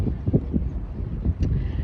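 Low, rumbling gusts of wintry wind buffet the microphone in uneven bursts by the Hunter River, a blustery outdoor roar with no voices.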